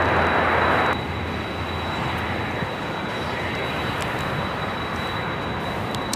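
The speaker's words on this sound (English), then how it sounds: "Another United Dreamliner arrival here on the south side." A United Boeing 787-9 Dreamliner arriving at LAX from Newark, a loud broadband engine roar that drops sharply after the first second and then continues as a steady rushing rumble.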